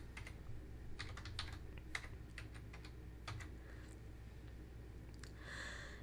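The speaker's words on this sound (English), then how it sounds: "Type song title in the Add Sort Key box." Typing on a computer keyboard while entering a sort key in an AWS DynamoDB console, with close, irregular clicking keystrokes in short bursts and pauses.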